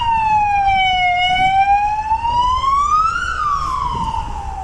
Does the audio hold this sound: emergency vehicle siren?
yes